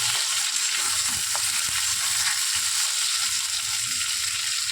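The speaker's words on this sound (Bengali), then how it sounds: "এটাকে একটু নাড়াচাড়া দিয়ে একটু ভাজা ভাজা মতন করে নিই" Taro and potato stir-fry together in a pan, giving a steady, loud hiss of sizzling oil with occasional soft scrapes of a spoon stirring, continuous throughout and no talking.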